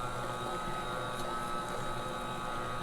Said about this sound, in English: I'm going to turn this mixer up a little bit just to get it all mixed in good